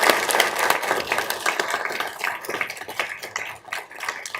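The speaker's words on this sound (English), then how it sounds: "So give Pete a round of applause." Audience applause for Pete at a Tucson city council meeting, a steady room-filling patter of many hands clapping that holds for several seconds and thins slightly near the end.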